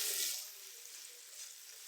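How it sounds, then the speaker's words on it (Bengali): Dried fish (shutki) frying in oil, a steady bright hiss and sizzle that swells briefly at the start then settles into a soft continuous crackle, close and with nobody talking. "আমি এখন তেলের মধ্যে শুটকিটা অ্যাপ্লাই করব।"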